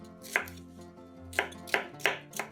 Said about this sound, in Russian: Нарезаем произвольными кусками.